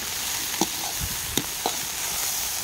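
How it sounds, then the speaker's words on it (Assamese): Banana flower and potato bhaji, an Assamese dish, fries in a pan with a continuous hiss of sizzling oil, broken by a few soft stirring scrapes and taps. "আজি কলডিল আলু ভাজিহে বনাইছোঁ দেই"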